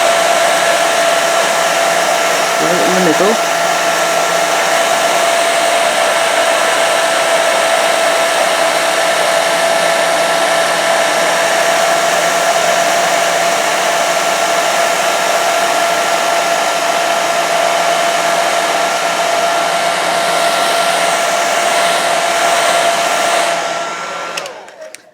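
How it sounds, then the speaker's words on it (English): A loud, steady hair dryer on low speed and high heat blows continuously with a constant whine, a brief voice speaking near the start, then the blower cuts off at the end. "the easiest thing is a hairdryer."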